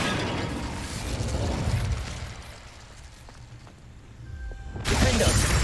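A fire spell is cast in the video game Hogwarts Legacy, a loud whooshing burst of flame that crackles over a rumbling game background and flares up again sharply near the end.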